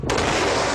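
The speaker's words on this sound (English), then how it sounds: "Aircraft actually usually produce two booms." A supersonic aircraft's sonic boom arrives as a loud, broadband rumbling blast that starts abruptly and fills the whole short stretch, dense and sustained with no voices over it.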